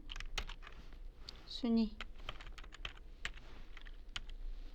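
Computer keyboard typing while entering text in an Excel spreadsheet, a run of crisp individual key clicks close by, with a short spoken word partway through.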